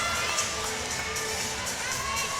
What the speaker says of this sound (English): You can hear the roar of the crowd. The Auburn fans love it.